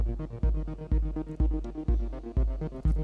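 Modular synthesizer sequence run through a multi-mode VCF filter, heard as a repeating pulse of punchy low thumps roughly every half second, each followed by a short tonal pattern of filtered notes, steady and mechanical.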